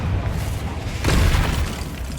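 Loud booming blast from the Confringo spell in Hogwarts Legacy, a single heavy burst rising out of a dense rumbling game soundscape at close range.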